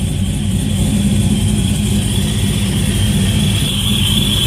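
A freshly re-installed aftermarket exhaust on a car drones loudly and steadily at close range, a constant low engine rumble with a faint high whine above it and no talk over it.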